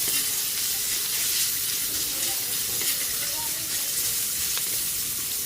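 Ginger and garlic fry in a pan for yellowfin tuna simmered in coconut milk, giving a steady, close hiss of sizzling oil that runs the whole time.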